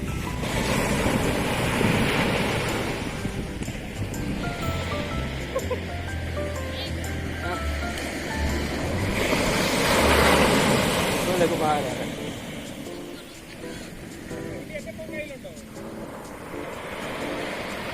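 Sea waves wash in at Marari beach in Kerala, surging and receding in broad swells over wind noise, with people talking over the surf.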